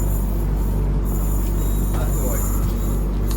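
A train pulling into a railway station at about 5:30 in the morning, heard as a loud, steady, close rumble of wheels and carriages that holds for the whole stretch, with faint crowd murmur underneath.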